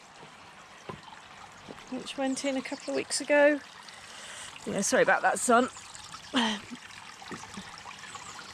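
A small new garden pond waterfall trickles softly and steadily in the background while someone talks over it for most of the stretch.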